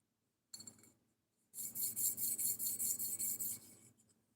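A Chris Reeve knife being sanded with 400 grit abrasive: one short rasp, a pause, then a run of about ten quick, regular scraping strokes, close and bright.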